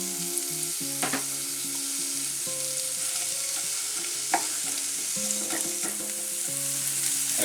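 Onions frying in olive oil in a pan, a steady close sizzle with occasional sharp crackles, running continuously under soft background music and with no one talking.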